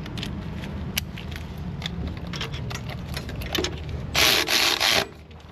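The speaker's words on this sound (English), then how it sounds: "we're gonna use our ratchet wrenches to snug things up" A ratchet wrench snugs bolts on a vehicle during mobile mechanic work, giving steady rubbing, clicking sounds with a louder, harsher burst of ratcheting near the end, close by and without talk.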